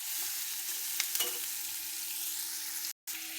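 Finely chopped onion fries in a pan with a steady, moderately quiet sizzle and a few light stirring clicks, then a brief dropout of sound near the end.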